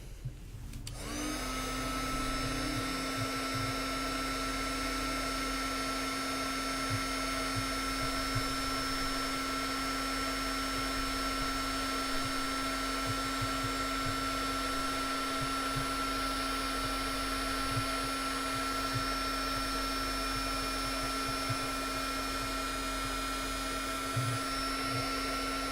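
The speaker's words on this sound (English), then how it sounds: "we're going to go ahead and apply our heat gun and see if it'll hold its strength" A heat gun blasts heat shrink tubing over wires, part of a Heat Shrink TEK product test. It produces a steady, even whirring roar that starts abruptly and runs alone for the whole stretch, with no talking.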